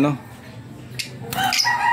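A hen squawks near a cage during a flood, with short sharp harsh calls standing out loudly over a low background of farm ambience.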